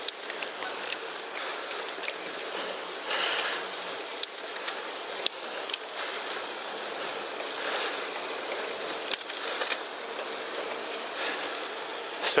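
River rapids rushing along a stretch of river beside a bike path, a steady broadband wash of churning water at moderate distance with faint scattered ticks and rustles, no voices.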